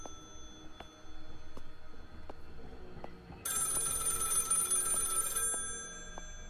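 An old telephone ringing in the horror game Maid of Sker, a faint bell ring that swells into a bright, loud burst of ringing midway before fading back, over a quiet tonal background.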